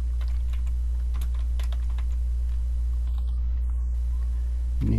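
Scattered keystrokes on a computer keyboard while writing Python code, faint clicks over a steady low hum, ending with a brief louder knock.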